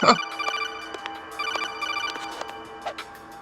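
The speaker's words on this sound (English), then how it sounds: "Oh, there's the phone call." A codec phone call rings in Metal Gear Solid The Twin Snakes, a repeating electronic chirping tone in short evenly spaced pulses with bright harmonic beeps. It is moderately loud, with brief speech at the start.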